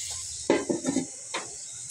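A utensil scrapes and clinks against a pan while ampalaya and egg are stirred, four or five short scraping strokes over a steady background hiss.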